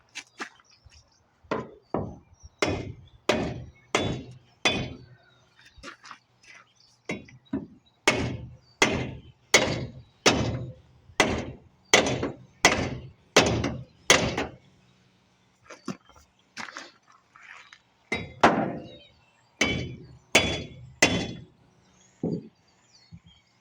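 A long series of sharp metallic hammer blows on a seized part of a 1966 AMC Marlin, struck in quick bursts with brief pauses between groups, loud and close.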